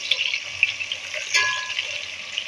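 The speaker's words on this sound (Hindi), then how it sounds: "मैंने प्याज लिया, ये हम शामिल करेंगे और इनको फ्राई कर लेते हैं" Sliced onions frying in oil in a pan, a soft continuous sizzle with light scraping and stirring clicks, close up and fairly quiet, no voice.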